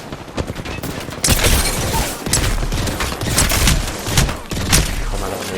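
Close, loud bursts of Peacekeeper shotgun and Wingman revolver fire in Apex Legends, heavy booming shots mixed with rapid cracks and impacts across a chaotic firefight, several spaced blasts standing out.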